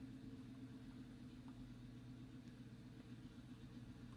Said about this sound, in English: someone turned their car on outside of my fucking window